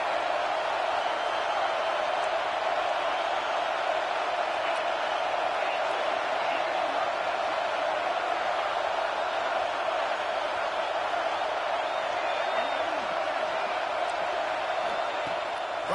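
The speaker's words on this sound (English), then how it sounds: "Decibels rising as the crowd gets behind this defense on 3rd down." A football stadium crowd roars on third down, a dense sustained wall of cheering and noise that stays loud and steady throughout, with no distinct voices standing out.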